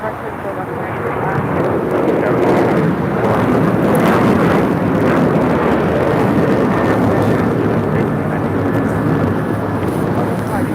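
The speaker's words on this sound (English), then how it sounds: "Taking off to Chicago O'Hare, but on a 737-900ER." A United Airlines Boeing 737-900ER taking off from LAX for Chicago O'Hare, a loud sustained jet roar with deep rumble that swells slightly midway, with talk likely mixed underneath.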